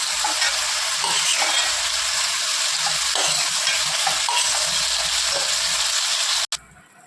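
Tomatoes and onions sautéing in oil in a frying pan, a loud, steady close-up sizzle with stirring throughout that cuts off abruptly near the end.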